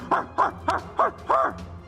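A voice imitates a dog barking, giving five short woofs in a quick, uneven rhythm, close and fairly loud.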